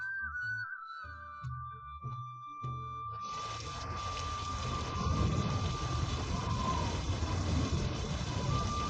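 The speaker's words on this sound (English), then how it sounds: "it suddenly started raining" A dense, heavy downpour rushes in after a few seconds of quieter sounds and continues steadily as a loud, broad hiss.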